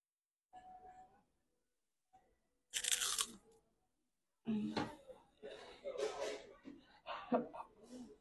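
Taco Bell cinnamon twists dipped in sour cream are bitten and chewed close up, with loud crisp crunches in short bursts separated by silent gaps, and a voice speaks between bites.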